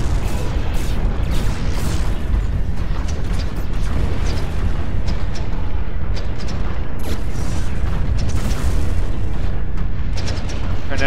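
Units in the Planetary Annihilation strategy game open fire on an enemy commander, a dense, continuous rumble of booms and blasts layered with mechanical clatter, loud throughout with some talk underneath.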